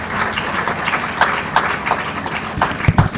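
An audience applauds a keynote speaker at an event, scattered hand claps forming a moderate uneven patter with a few sharper individual claps standing out.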